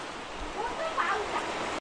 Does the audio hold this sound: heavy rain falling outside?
yes